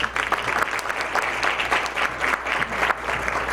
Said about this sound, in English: Give him a hand as he comes